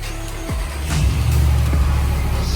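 A 2020 Ram 1500 Limited with the 5.7 V8 cranks and fires up, a brief starter whine followed by the engine catching into a steady low rumble heard from inside the cab.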